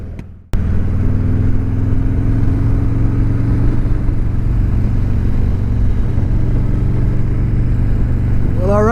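Motorcycle ridden in cold weather, a sharp thump and then a loud steady engine drone with heavy wind rush that holds throughout.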